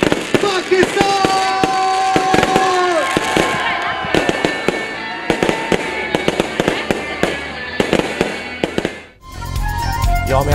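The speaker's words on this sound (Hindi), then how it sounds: "रात 12 बजते ही शहर शहर आतिशबाजी से आसमान रंगों में नहा गया।" Midnight fireworks across Pakistani cities on Independence Day pop and crackle in dense bursts, with whistling rockets rising early and sharp bangs throughout, loud and close amid crowd noise and a voice.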